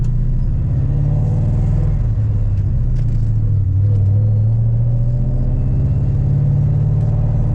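A Procharged 2003 Ford Mustang Mach 1 with a four-valve engine rumbles loudly on the road, its deep exhaust note rising and falling through steady revving, heard from inside the car with no talk.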